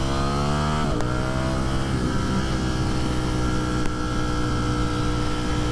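Two 2022 Ducati Streetfighter V4 motorcycles, a V4S and a V4SP, running together nearby with a loud rumbling engine drone; one engine drops in pitch early on, then both settle into a steady idle.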